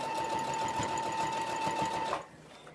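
A sewing machine runs steadily, stitching a seam down the middle of a sequined border on a dog dress, with a loud continuous whirring drone that stops abruptly near the end.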